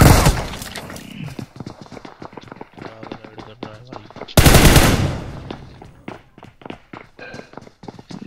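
Gunfire rings out during a gunfight in the video game BGMI, with bursts of rapid automatic shots, a loud blast partway through and scattered single pops mixed with footsteps and game clatter.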